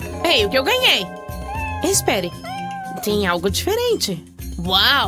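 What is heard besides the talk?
cat meowing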